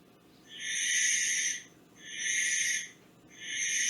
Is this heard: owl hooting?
yes